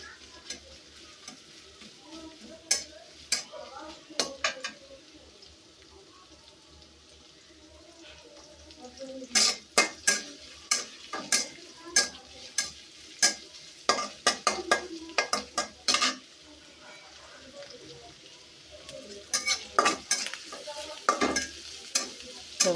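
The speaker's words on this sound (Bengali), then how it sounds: "ভাজা ভাজা হইতেছে।" Sliced ash gourd fries with onion and green chilies in a home village kitchen, giving off a quiet sizzle. A spoon scrapes and taps the pan in irregular bursts as it is stirred.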